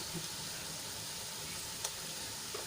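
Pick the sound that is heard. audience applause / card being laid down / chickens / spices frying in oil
spices frying in oil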